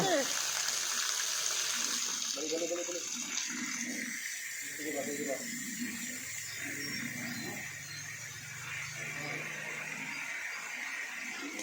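Pumped water gushes steadily from a pipe, a continuous rushing flow with a faint squeal, while voices talk over it in places.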